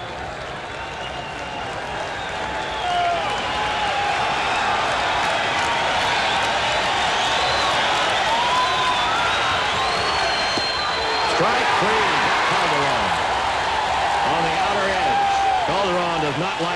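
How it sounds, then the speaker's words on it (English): A small baseball crowd in a 1986 stadium cheering and clapping as the pitcher reaches two strikes, a sustained rising roar heard under a commentator's talk. "And this crowd is getting turned on. They're small, but they're mighty when he gets 2 strikes on somebody."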